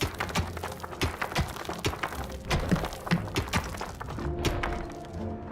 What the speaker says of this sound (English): the constant rhythmic thumping sounds coming from underground